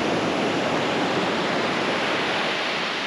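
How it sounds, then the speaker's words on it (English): Ocean waves break and wash onto a beach during a fish spawning run, a loud, continuous roar of surf with no voices. "did you see the waves? Did you see the waves come in?"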